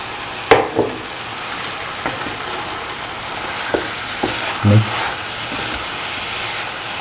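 A spoon stirring chicken tamarind stew in a pot: scattered light scraping clicks and knocks over a soft, steady sizzling simmer, fairly quiet and close.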